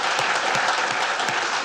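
Steady, dense applause from a conference crowd at WordCamp Orange County thanks the organizers, many hands clapping loudly and evenly throughout with no pauses.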